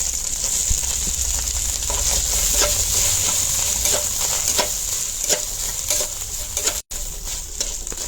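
Grated coconut frying in hot oil with panch phoron and a bay leaf for a sweet-sour amra and jaggery dish, producing a steady close sizzle with occasional stirring scrapes and no voices.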